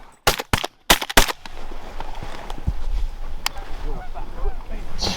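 Shotgun blasts ring out during a snowy duck hunt for mallards and geese, a quick rapid volley of five or six loud close shots, followed by wind and an excited shout.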